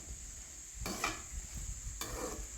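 Country chicken for a Chettinad-style fry sautés in a pan, a faint background sizzle interrupted by two short bursts of stirring and scraping.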